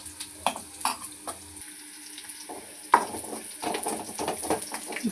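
Onions and curry leaves frying in a pan for sambar tempering, with scattered stirring clanks and scrapes at first, then a louder, steadier sizzle building near the end and no talk.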